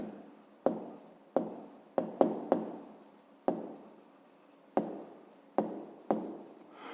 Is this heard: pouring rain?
no